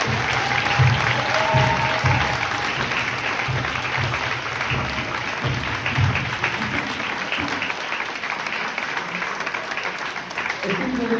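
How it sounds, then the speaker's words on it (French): An audience, including children, claps steadily for a long stretch after a presentation, with loud dense applause and some voices mixed in before it thins out toward the end. "Bravo Priscilla, bravo Clément, on peut les applaudir s'il vous plaît"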